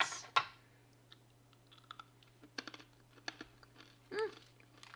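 Crunchy hardtack biscuits from a Ukrainian daily field ration pack are chewed in small, scattered crunches and clicks, close and fairly quiet against a low steady hum.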